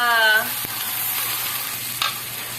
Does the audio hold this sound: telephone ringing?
no